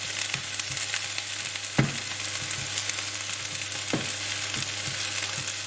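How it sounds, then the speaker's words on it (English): Onions frying in a pan while a chicken pathia curry is being made, a steady bright sizzle with a constant low hum beneath and a few sharp clicks of the utensil against the pan. "Come on, onions, get cooking."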